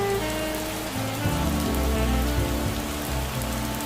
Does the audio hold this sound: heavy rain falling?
yes